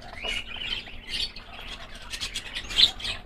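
A pair of English budgies, one white and one yellow TCB, chirp and tweet beside their nest box, giving repeated light, high calls at a fairly soft level with no voices.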